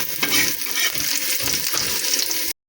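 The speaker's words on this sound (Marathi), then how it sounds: "आता इकडं मसाला भाजून घेण्यासाठी तेल टाकते. कांदा आधी भाजून घेते चांगला." Onion frying in hot oil for a masala in a rural home kitchen, a dense, continuous loud sizzle with stirring scrapes, cutting off abruptly at the end.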